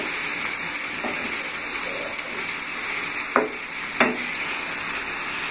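Bhindi and spices are stirred in a frying pan for dum bhindi under a steady sizzling hiss, with a couple of distinct scrapes of the spoon against the pan.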